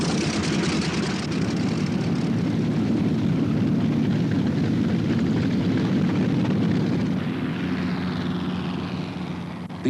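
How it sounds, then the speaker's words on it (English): A propeller aeroplane drones overhead, a loud, steady engine and airscrew roar that holds throughout and eases slightly near the end, with no voices. "The aeroplane."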